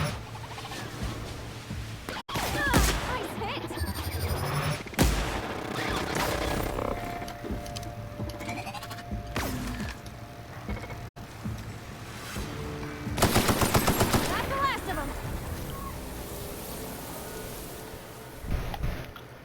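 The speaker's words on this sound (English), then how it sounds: "Plasma bullets make this thing a lot deadlier." A plasma gun firing in the video game The Outer Worlds, rapid buzzing bursts of energy shots with mechanical whirs and electronic tones, loud and dense over game ambience, with no talking.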